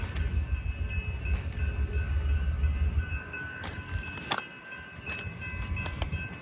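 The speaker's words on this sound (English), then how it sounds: "we got a train coming" A BNSF grain train passes nearby with a steady low rumble and rolling wheel noise, then squeals and clanks as it slows, heard alone without talk.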